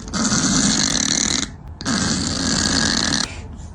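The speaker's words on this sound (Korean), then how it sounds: "고양이가 저렇게 코를 골 수 있는지 몰랐어요." Loud, raspy snoring from a fat cat in two long drawn breaths separated by a short pause, close and steady with a rough rattling texture.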